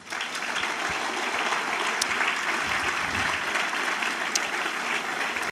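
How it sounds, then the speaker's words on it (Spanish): A church congregation applauds steadily and loudly for several seconds, a dense, even wash of many hands clapping at once that cuts off abruptly at the end. "Un aplauso a Cristo."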